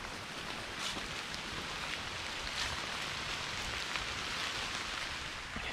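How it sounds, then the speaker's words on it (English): Steady rain falling continuously on the Blairs Pond Loop trail at Milford Millponds Nature Preserve, a dense hiss of drops hitting surfaces with no pauses. "Raining again."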